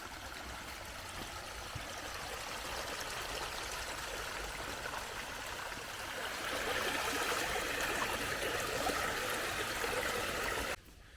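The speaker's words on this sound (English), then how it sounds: "you can see the stream trickling all the way down." A woodland stream in Uffmoor Woods, Worcestershire, makes a continuous soft rushing trickle that swells a little louder midway, steady and unbroken, then cuts off abruptly near the end.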